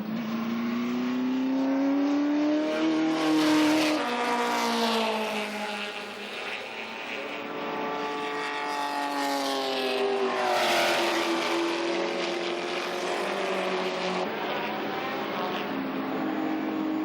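Racing cars, including an Australian driver's and Moss's, drive hard on a circuit, engines revving high and wailing through shifts as they pass, loud and sustained with a rising and falling roar.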